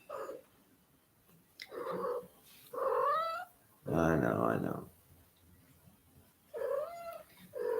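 A pet cat lets out several drawn-out meows and yowls between stretches of someone speaking, one harsher caterwaul standing out in the middle, fairly close indoors.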